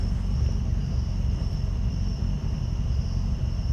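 A Nissan 350Z engine idles steadily with an uneven, lumpy texture, close by, with no talking.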